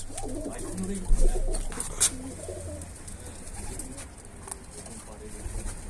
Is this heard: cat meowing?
no